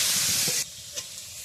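Potatoes frying with salt and turmeric being stirred in a pan, a loud close sizzle and hiss that drops sharply partway, followed by quieter sizzling and a small scrape.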